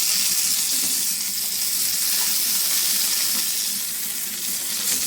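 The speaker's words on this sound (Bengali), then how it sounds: "তেল গরম হয়ে গেছে, আমি এগুলো ভেজে নিচ্ছি।" Brinjal pieces fry in hot mustard oil in a wok with a loud, constant, close sizzle and crackle that runs unbroken throughout.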